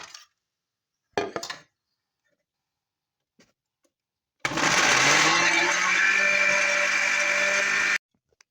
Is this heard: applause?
no